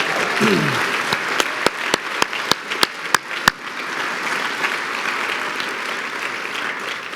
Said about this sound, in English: Let's give Amy a big round of applause for a job well done tonight.